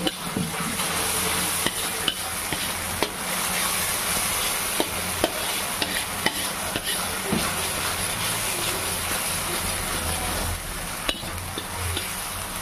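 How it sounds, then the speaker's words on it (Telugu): Turmeric and salt are stirred into a frying mixture of blended tomatoes in a pan, giving a continuous close sizzle and hiss broken by occasional sharp scrapes and taps of the spoon. "చిటికంతా పసుపు వేసి కలిపేసుకుందాం."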